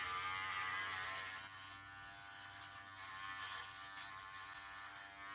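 Electric hair clippers fitted with a 1.5 guard buzz steadily up close during a buzzcut of long hair, a continuous mechanical drone with slight rises and dips and no speech.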